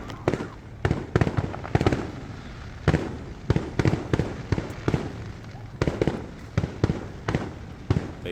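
Fireworks burst in a rapid, irregular series of sharp cracks and pops, some in quick clusters, loud and fairly close, with occasional voices in the background.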